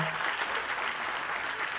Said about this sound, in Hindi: जोरदार तालियों से स्वागत कीजिए आज के हमारे प्रमुख अतिथि गेस्ट ऑफ ऑनर।